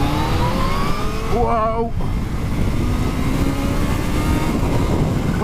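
A Kawasaki Z H2 supercharged motorcycle accelerates hard, its engine note rising in pitch as it revs through the gears against steady road and wind noise, with a brief excited shout over it.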